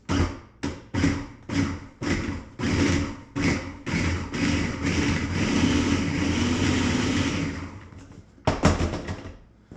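A food processor whirs in a run of short, loud pulses while cutting butter into flour for pasty pastry, then one long continuous grind, followed by a couple more quick bursts.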